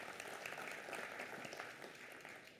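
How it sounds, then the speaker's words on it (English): Audience applause in a conference room, a steady patter of many hands clapping at moderate distance that tapers off slightly at the end. "I think we can give you all a round of applause"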